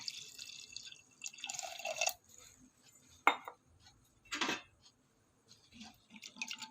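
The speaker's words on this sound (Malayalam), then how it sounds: "കുറച്ച് വെള്ളം കൂടെ ഒഴിച്ച് കൊടുക്കുക" Water is poured into a curry mixture of chili powder, turmeric and salt for a coconut-ground koorka curry, brief quiet splashing pours with a clink of utensils.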